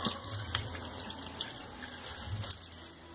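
Water pours onto a potted fern in a continuous splashing stream, close and fairly quiet, with small splashes and drips over a few seconds.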